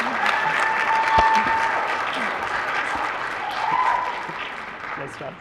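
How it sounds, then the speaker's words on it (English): Audience at an education conference applauds a speaker taking the mic, a steady, moderately loud round of clapping that swells slightly near the end, with brief voices under it. "Let's give Krista a big round of applause as she takes the mic."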